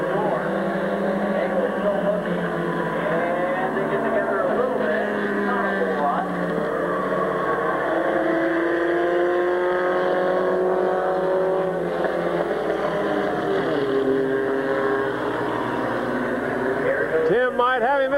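Race cars circle the oval at Midvale Speedway, their engines droning continuously in a blended roar with rising and falling pitch as they pass. A commentator talks over the noise the whole time.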